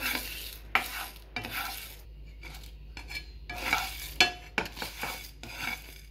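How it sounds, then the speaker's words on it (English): Whole spices (fennel seeds, cinnamon stick, cardamom pods, cloves, peppercorns, javitri, bay leaves) dry roasting in a pan, with repeated scraping stirs and light crackling, close and fairly quiet. "Dry roast them for a minute or so."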